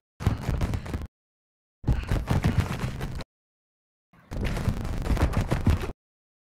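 Automatic gunfire in the video game Warzone 2.0, three sustained bursts of rapid shots, loud and close, separated by short silent gaps.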